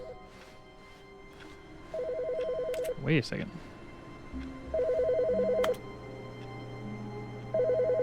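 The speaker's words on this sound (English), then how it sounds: "Was there always a ringing phone in here?" Phone ringing in the video game The Stanley Parable, repeated electronic trills in bursts about two seconds apart, with a brief spoken interjection and a thump between rings.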